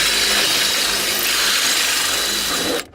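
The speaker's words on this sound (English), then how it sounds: "Because you just want to drill the head off." A power drill whines steadily at close range, grinding continuously for nearly three seconds to drill a screw head off a 1988 Ford Bronco II or Ranger power door lock actuator, before abruptly cutting off.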